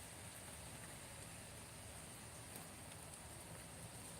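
Light, steady rain falls on a grey day, a faint and even hiss with no talking.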